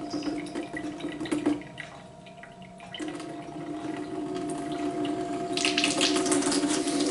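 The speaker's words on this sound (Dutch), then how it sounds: "ik ga ze proberen, maar even of proberen een beetje te water te geven" Water pours and splashes steadily onto dried-out soil while watering potted plants, with a low constant hum underneath and the flow growing louder toward the end.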